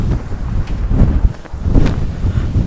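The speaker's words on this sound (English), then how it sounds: "It's crazy when the gust of wind comes." Strong wind in Wellington, New Zealand, buffeting the microphone in rough, rising and falling gusts, loud and close.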